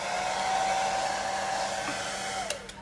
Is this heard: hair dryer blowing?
yes